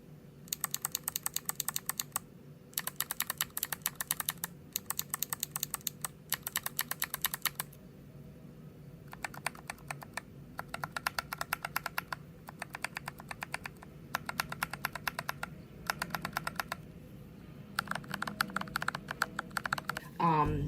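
Bursts of rapid clacky typing on a GMMK Pro custom keyboard, comparing lubed and unlubed switches, come in repeated short runs separated by brief pauses, close and crisp over a low background hum.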